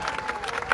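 Crowd applause bursts briefly at an AAP political rally in Bhavnagar, a short patter of many hands clapping at moderate distance.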